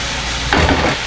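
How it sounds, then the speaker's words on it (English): Garlic and food sizzling in a pan on the stove, a steady frying hiss with a brief stirring clatter midway. "we're gonna let that sizzle for a little bit"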